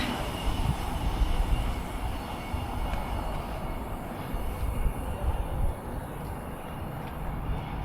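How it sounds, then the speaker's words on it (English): Train rumbling steadily past at Alfreton railway station, a broad continuous roar heard fairly close with no talking. "I was expecting a longer train"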